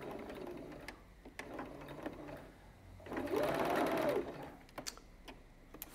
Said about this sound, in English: So I'm just going to stitch along these lines here.